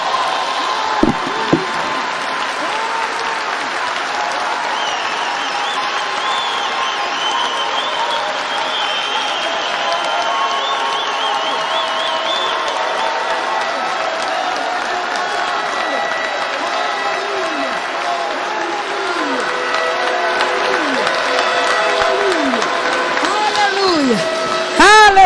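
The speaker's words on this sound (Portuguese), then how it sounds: "Aplauda ao Senhor" Sustained applause from a church convention audience, steady and full throughout with cheering mixed in and voices in the crowd, rising slightly near the end.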